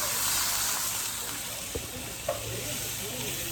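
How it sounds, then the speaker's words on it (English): Onions with green, red and orange peppers sizzle steadily in a pot for a chicken scampi dish, a constant frying hiss with a couple of faint knocks. "And it's sizzling in the pot."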